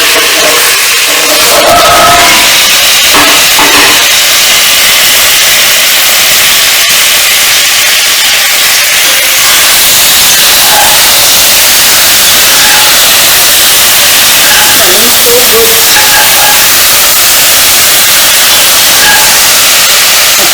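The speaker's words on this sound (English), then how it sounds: "They are making a nice sizzling sound." Vegetables including brinjals cooking for undhiyu sizzle in a pan with a loud, continuous hiss that stays steady throughout, with no voices.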